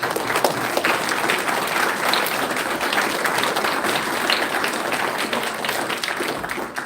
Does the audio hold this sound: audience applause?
yes